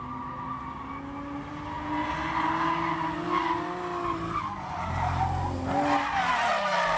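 Drift car skidding on a track, a continuous engine roar with wavering tire squeal that swells and fades, heard from trackside.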